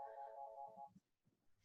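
A telephone rings with a steady, sustained electronic tone for under a second, then cuts off, leaving faint rustling and low murmurs.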